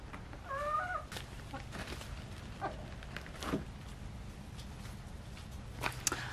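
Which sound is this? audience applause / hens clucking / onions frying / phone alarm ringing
hens clucking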